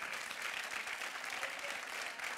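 Sustained studio audience applause on an Italian television talk show, a dense, even patter of many hands clapping at moderate volume from start to finish.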